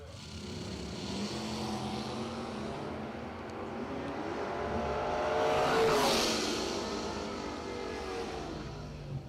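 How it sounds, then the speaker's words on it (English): A 1994 and a 1995 Chevrolet Camaro drag race down the strip at a radial racing event, a roaring engine rush that swells as the cars pass and then fades, with no voices. "Eddie Nunley from the PTC camp, the 94 Camaro, taking on the 95 Camaro"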